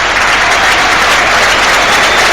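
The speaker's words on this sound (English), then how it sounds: "And now here's the applause for Sean Dyche ringing around the ground here at Turf Moor." Football crowd applauding Sean Dyche at Turf Moor during Burnley versus Southampton, a dense, steady wash of clapping from a large stadium crowd filling the whole moment without a break.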